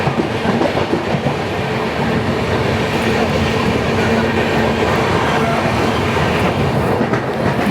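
Garib Rath Express 12517 running on rails between Kolkata and Guwahati near Barsoi Junction on a foggy day, a loud, steady rumble with rhythmic clickety-clack of wheels over joints throughout, heard close from inside the moving train.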